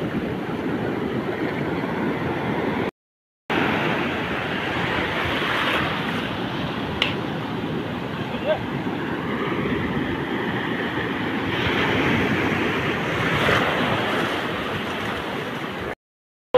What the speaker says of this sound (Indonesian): Ini pantai luar biasa, pantainya keren.